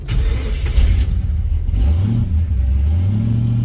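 A car engine cranks and catches, then revs up with a rising pitch that climbs and holds, loud and close with no talking over it.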